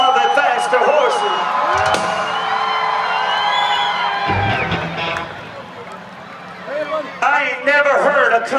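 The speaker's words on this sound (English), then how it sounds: "I ain't never heard a country music crowd this loud in my life." A loud country music concert crowd roars and cheers at a Faster Horses show, with whoops and shouts swelling throughout and brief dips before surging again.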